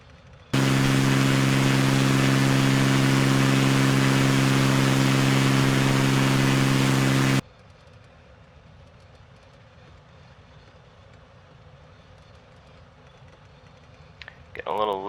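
A loud, steady aircraft engine hum from MS Flight Simulator plays during a landing approach at Nice, France. It drops abruptly to a low background drone after about seven seconds, and a brief tone sounds near the end.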